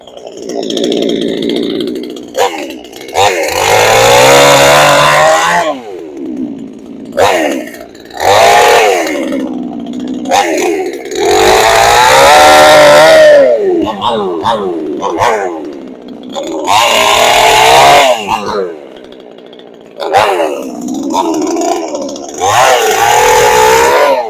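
A Pinkway 63cc gas chainsaw with a 20-inch bar revs loudly in repeated surging bursts, each climbing and falling in pitch, separated by short drops toward idle.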